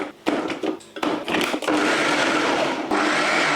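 A Ninja food processor shreds chicken, a few short pulses starting and stopping before the motor runs in a loud continuous whir to the end.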